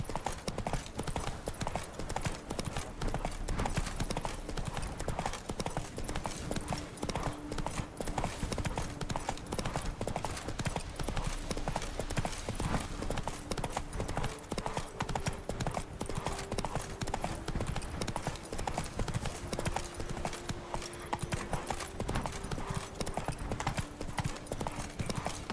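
Roach, Geralt's horse in The Witcher 3, gallops in a fast, steady clip-clop of hooves that runs continuously and close, over a low game soundtrack.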